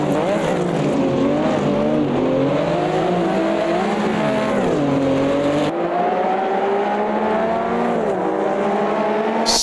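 A 1974 Porsche 911 RSR race car in Automobilista 2 at the Kansai circuit drones steadily, its engine pitch rising and falling through gear changes and corners, with faint tire noise underneath and a sudden shift of sound partway through.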